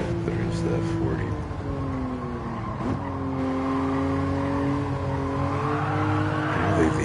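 A race car in the Gran Turismo VR video game revs close and loud with shifting engine tones as it shifts through gears, with bursts of tyre squeal over a constant roar.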